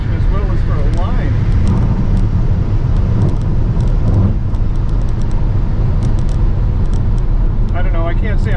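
A Tesla Model X Plaid launching down a dragstrip, a loud steady rush of motor whine, tire and road noise from inside the SUV, with someone talking over it in spurts.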